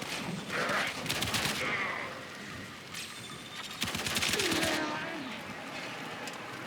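Braton assault rifle firing in the sci-fi shooter Warframe, bursts of rapid automatic gunfire set against game ambience while someone narrates over much of it.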